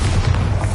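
A Bombarda blasting spell goes off in Hogwarts Legacy, a short, dense low boom that rumbles loudly for under a second with no voices over it.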